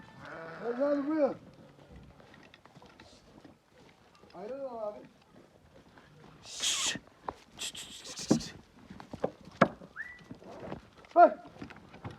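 Sheep brought down from highland pasture bleat in scattered calls, some close and some farther off, with goats and other livestock noise in an open outdoor setting and brief human shouts.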